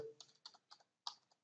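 Quiet, close keystrokes on a computer keyboard come in short irregular bursts of a few clicks while HTML code is typed, with brief gaps between them and no speech.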